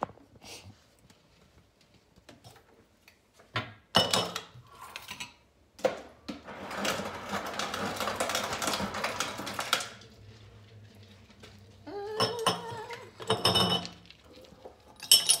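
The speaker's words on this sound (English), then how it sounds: "So you just put the ice in the jar." Ice cubes clatter and clink into a glass hookah jar in irregular bursts, with sharp knocks and a longer rattling pour, close up, between quiet pauses and with no talk.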